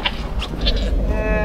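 A buck goat bleats on a homestead, giving a few short, loud, nasal calls up close in quick succession, with no talking.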